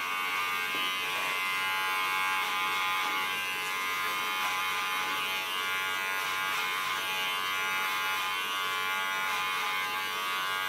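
Electric hair clipper cutting hair during a salon haircut, a steady close buzzing hum running continuously throughout.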